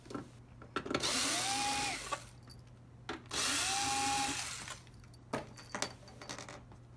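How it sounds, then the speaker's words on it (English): An automatic screwdriver whirs in two long bursts as it backs screws out of an Xbox One S console, close and clear, with small metallic clicks and taps of screws and parts between and after the runs. "I'm gonna use my automatic screwdriver to save time."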